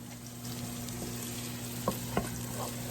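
Cut vegetables frying in about two tablespoons of ghee in a pot, a quiet even sizzle over a low hum, with a couple of sharp utensil clicks.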